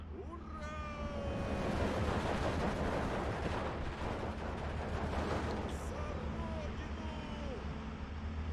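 Artillery fires from an OB in Steel Division 2, a dense continuous rumble of explosions and booms filling the scene under a steady engine drone, with someone talking over parts of it.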